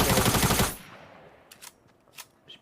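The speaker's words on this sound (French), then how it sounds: "Vous voyez, je vais tirer, les deux balles vont au même endroit." A fast burst of gunfire from a weapon in the video game Fortnite rattles loud and close, then cuts off, leaving a few faint clicks and mechanical reload sounds.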